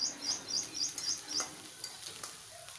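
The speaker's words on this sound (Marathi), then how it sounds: "कांदा छान झालेला आहे परतून" Chopped onions sautéing in a pan for a Maharashtrian vada rassa, a steady soft sizzle with faint stirring scrapes, close and quiet, with light chirping sounds above.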